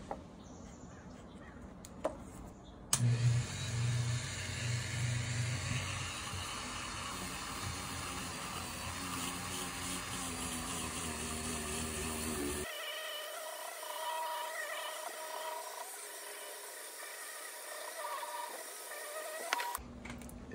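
Dremel rotary tool at 10,000 RPM spinning a small buffing wheel against an oyster fossil: a steady high motor whine begins suddenly, holds for about ten seconds, then shifts to a thinner tone as the load changes.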